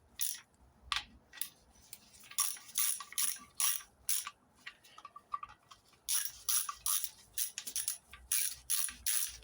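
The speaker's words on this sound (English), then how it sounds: "we just torque them up the last bit then." Bolts on the tube rear axle of a 1970 MGB GT are tightened with a ratchet, producing close bursts of quick metallic clicking separated by short pauses.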